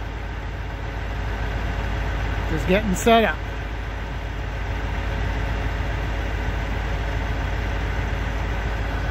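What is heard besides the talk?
tub grinder powered by truck engine running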